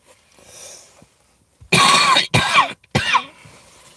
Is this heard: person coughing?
yes